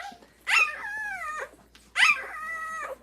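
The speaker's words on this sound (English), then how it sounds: "if a puppy is nursing and is full, this screaming and whining shouldn't be happening" Nursing puppies scream and whine in two loud, drawn-out, rising-then-falling cries close by, separated by a short quiet gap.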